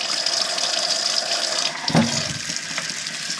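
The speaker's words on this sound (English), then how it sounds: "And then I'm just gonna give everything a bit of a scrub as needed." Potatoes scrubbed by hand under a steady stream of running tap water at a kitchen sink, with a continuous close splashing hiss and a brief louder gush near the middle.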